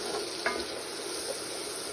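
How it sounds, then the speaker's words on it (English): Onions sauteing in oil with curry for a vegetable curry fried rice, giving a soft, steady sizzle with a brief clink of stirring near the start, faint and even throughout. "We're going to saute our onions in this oil with our curry for 2 to 3 minutes"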